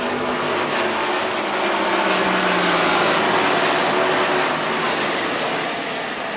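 NASCAR stock cars roar around the track on the final lap of the Coca-Cola 600, a dense loud engine drone with a sweeping pitch, heard from trackside with no voices.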